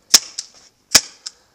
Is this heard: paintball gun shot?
yes